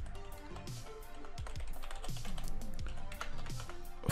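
Rapid clicking of a computer keyboard as a website address is typed, with steady keystrokes over a faint background of music and tonal sounds, close and moderately loud.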